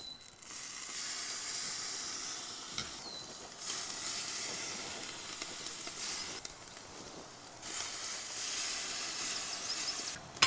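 A salmon fillet laid skin side down on a hot kamado grill gives a loud, steady sizzle and hiss that swells and eases in waves over several seconds, with no talking.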